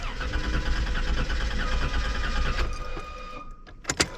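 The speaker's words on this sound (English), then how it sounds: "There we can hear our fuel pump kick." The fuel pump on a 1993 Dodge Dynasty 3.3L V6 kicks on with a steady electric whine and buzz for a few seconds, then cuts off. A couple of sharp clicks follow in the quiet.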